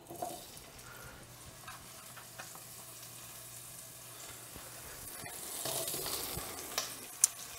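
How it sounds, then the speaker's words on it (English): Andouille sausage sizzles in a small amount of oil in a pan, a faint, steady hiss that swells a little louder toward the end, with occasional light clicks and no talk. "in that same pan, I'm going to add just a very small amount of oil. And we can go in with the andouille sausage."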